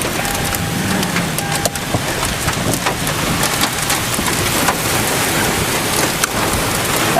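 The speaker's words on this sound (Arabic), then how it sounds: "شوفها، واو، عاصفة خطيرة، عاصفة صعبة جدا غير عادية" Heavy rain pours down steadily during an unusually severe storm with hail and flying debris, a loud continuous hiss with scattered sharp clatters and knocks close by, and no voices.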